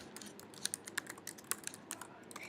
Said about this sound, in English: you just type in your search string here